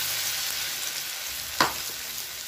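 Steady, even sizzle of a pork torta with ground pork frying in a pan, with a single brief clink of a utensil partway through.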